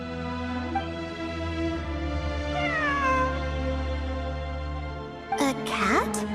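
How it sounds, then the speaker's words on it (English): A cat meows in the video game Genshin Impact, giving a drawn-out wavering mew and then a sharper, louder cry near the end over a steady hum of ambient game music. "A cat?"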